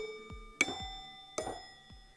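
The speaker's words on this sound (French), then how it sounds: "on pourrait croire que c'est des cloches qui sonnent alors qu'en fait c'était juste des verres." Glasses struck as foley to sound like ringing bells: two clear bright chimes about a second apart, each ringing on and fading, with soft low knocks between them.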